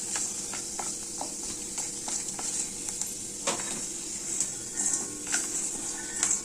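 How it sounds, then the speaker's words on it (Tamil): Laddu ingredients roasting in ghee in a pan: a continuous sizzle and fry with scattered scraping stirs and light clinks, close and moderately quiet. "அவ்வளோதாங்க, நம்ம எல்லாமே வறுத்துட்டோம்."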